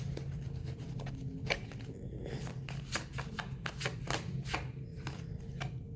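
A deck of tarot cards shuffled by hand at close range, a steady run of crisp riffling flicks and soft slaps over a low room hum, with no talking.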